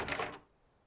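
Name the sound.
locked doorknob jiggled in a video game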